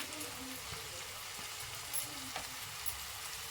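Green chilli, garlic and ginger sizzle steadily in a pan for an okra curry, a soft continuous crackle with a few brief stirring clicks, close and moderately quiet, with no talking.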